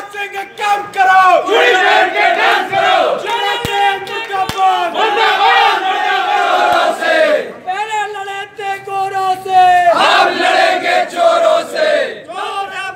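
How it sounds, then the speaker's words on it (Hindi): A protest crowd chants slogans against the government in loud, rhythmic bursts, many voices shouting together in repeated call-and-response phrases with short pauses between them. "कार्यकर्ता सरकार के खिलाफ नारेबाजी करते हुए आगे बढ़े"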